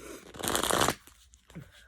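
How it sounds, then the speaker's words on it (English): Tarot cards being shuffled in a burst of crisp riffling and flapping for about a second, close and fairly loud, followed by a few quieter handling sounds. "Last shuffle for Leo."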